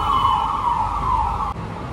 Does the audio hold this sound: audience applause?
no